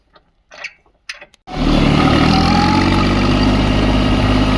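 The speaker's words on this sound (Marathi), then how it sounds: "मी आज मित्रांनो महेश भाऊचा ट्रॅक्टर चालवतो आहे आणि चालू आहे महेशच्या शेतामध्ये" A farm tractor's engine starts up in a field after a few brief knocks and clatters, then settles into a loud, steady, close rumbling drone that runs without a break.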